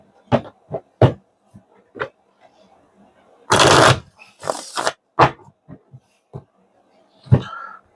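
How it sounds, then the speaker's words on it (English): A couple of quick riffle shuffles of a deck of cards, each a short papery whirr, between soft scattered taps and clicks of cards being handled up close. "Let's shuffle these really quick and then rotate these."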